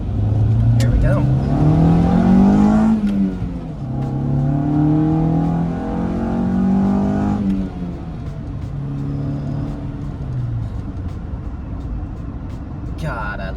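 A Honda CR-V engine revs hard and accelerates during burnouts, a loud, sustained roar with rising and falling pitch that carries on throughout.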